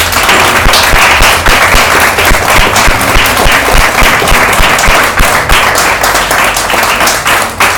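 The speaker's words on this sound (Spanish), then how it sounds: "¿Puedes darle un aplauso a Dios?" A church congregation claps loudly together, a dense, continuous rattle of many hands that holds steady for several seconds before easing slightly at the end.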